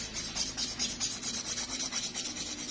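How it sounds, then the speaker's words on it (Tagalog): A nail file rasping across fingernails, quick rhythmic strokes up close, soft and steady with no talk. "in-nailfile natin mga kalugit para gumanda ito"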